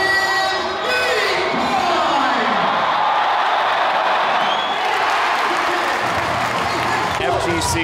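A packed basketball arena crowd of more than 4,600 fans roars and cheers, a loud, continuous wash of shouting and whooping with a commentator's voice speaking over it.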